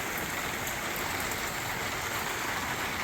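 Heavy rain pours in a dense, constant roar of hiss and patter, loud and close, with no break and no voices.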